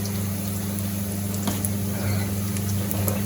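Steady sizzling and crackling of spices frying in hot oil for a dal tadka, continuous and close, with a low hum underneath and a few small pops.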